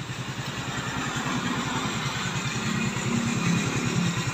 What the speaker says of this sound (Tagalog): Yung tunog ho na yan ay dahil sa belt na sobrang kapit sa aking CVT.